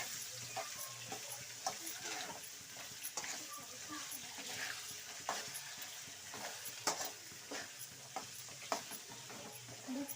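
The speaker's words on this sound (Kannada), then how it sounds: "ಇವಾಗ ತಿರುಗಿಸ್ಕೊಡಿ ಒಂದ್ಸಲ" Amla gooseberries roasting in a pan for pickle, stirred with a spoon that scrapes and clinks through a steady soft sizzle, with several sharp taps along the way, close and fairly quiet.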